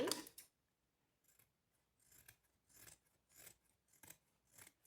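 Scissors snip repeatedly through acrylic batting, a sequence of crisp cuts in an uneven rhythm, close by and quiet, after one louder opening snip.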